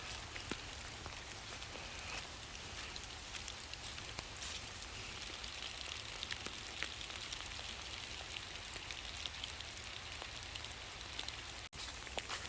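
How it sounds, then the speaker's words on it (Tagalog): Rain falls steadily in an autumn forest, a dense, even hiss with scattered drop ticks, faint and without talk. "lumalakas na ulan"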